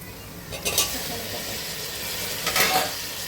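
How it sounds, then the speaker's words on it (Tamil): Green chillies and onions sautéing in a pan for biryani, a soft steady sizzle with two brief scraping stirs of a spoon against the pan, heard close. "பச்சை மிளகாவும் வெங்காயமும் நல்லா வதங்கிடுச்சு."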